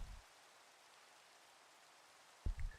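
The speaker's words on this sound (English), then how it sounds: "I just want the rain to go away" Steady Minecraft rain hisses evenly and faintly as a continuous broadband wash, with brief low thumps at the start and end.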